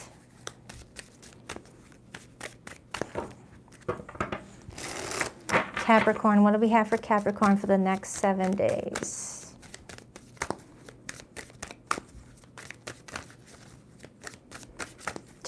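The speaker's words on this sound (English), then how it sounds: "Two more shuffles for Capricorn." A tarot deck is shuffled by hand in quick, crisp riffles and snaps that repeat throughout, while someone speaks over the middle stretch.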